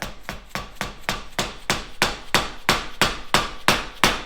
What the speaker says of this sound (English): when in doubt, just pull out the hammer, right?